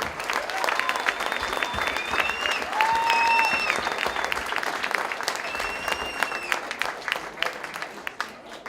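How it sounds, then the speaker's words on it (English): Sustained audience applause fills the room at an anniversary dinner, with cheers and whistles rising over the clapping throughout. "Let's give a big round of applause to our owner, Sue Black."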